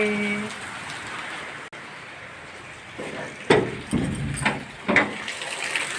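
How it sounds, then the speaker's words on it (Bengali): Rain falls outside in the evening as a steady background hiss, with some louder splashing or knocking bursts near the end, no voices. "আর দেখো বাইরে কত বৃষ্টি পড়ছে"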